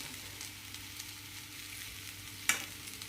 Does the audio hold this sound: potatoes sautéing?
yes